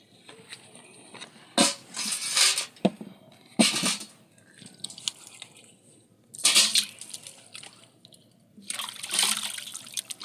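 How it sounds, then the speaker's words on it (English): Hands are washed with water outdoors in rainy Jamaican countryside, in several close bursts of splashing and pouring separated by short pauses, with no voices. "Right, come wash your hand."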